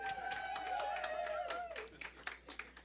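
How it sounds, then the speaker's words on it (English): Concert audience clapping and cheering for a live performer, a dense burst of applause that thins into scattered individual claps by the end, with a voice trailing over the start. "That's when you applaud wildly."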